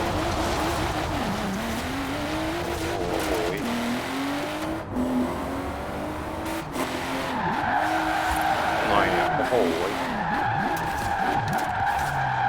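A BMW M4 Coupe skids through a corner in Forza Horizon 4, its tires squealing in long, wavering screeches over a steady engine roar, loud and close, with a man's exclamation in the middle.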